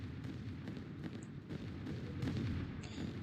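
Artillery fire in the Rise of Nations strategy video game: a dense, continuous rumble of distant booms and low thuds, with no single shot standing out.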